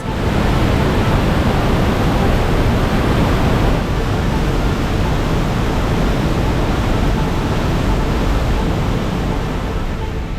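A steady, dense roar of rushing water fills the whole stretch, loud and continuous without a break, like standing close to a waterfall in Lauterbrunnen, Switzerland.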